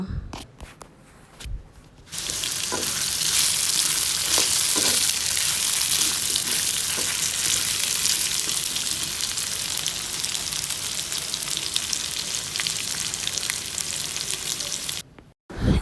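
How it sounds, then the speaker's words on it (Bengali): Cut potatoes with turmeric and salt frying in a pan, a loud, steady, close sizzle lasting most of the clip with occasional stirring knocks, quieter before it starts and cutting off at the end. "আলু কেটে হালকা একটু হলুদ আর লবণ দিয়ে ভালো করে আলুটা ভেজে নেব"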